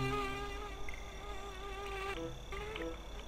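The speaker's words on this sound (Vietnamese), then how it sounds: "con muỗi, công nhận con muỗi nó kêu to thật" A mosquito buzzes in a video game, a loud, steady, high-pitched whine with wavering tones that never lets up, heard alone without speech.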